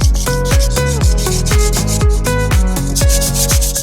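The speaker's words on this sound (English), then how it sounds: "So fine grit sandpaper and round the edges we go." Fine-grit sandpaper worked by hand around the edges of an adapter flange for a campervan roof, giving a steady run of close, loud, rhythmic rubbing strokes, roughly three or four per second, with no talk.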